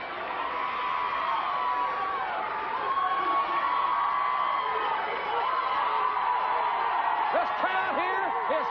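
Wrestling arena crowd roaring and cheering steadily throughout a WCW tag-team match, with excited whoops rising near the end, under a commentator's continuous voice.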